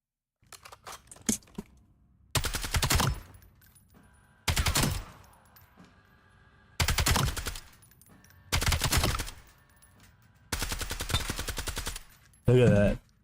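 Heavy automatic gunfire from Call of Duty: Black Ops 7, arriving in six loud, rapid bursts of roughly a second each, separated by short pauses, with softer single shots at the start.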